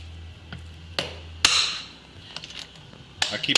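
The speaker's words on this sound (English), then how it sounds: "So I just got a socket and a rubber mallet. I just go ahead and hit them down until they're seated" A rubber mallet strikes a socket to seat cylinder head studs on Flo-Tek 190cc CNC small block Ford 5.0 heads, giving several sharp, close taps at irregular intervals in a quiet workshop.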